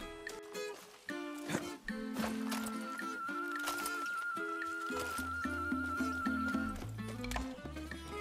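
A horse in the Far Cry 6 video game clip-clops and whinnies over a busy bed of game music, hooves thudding in uneven bursts throughout.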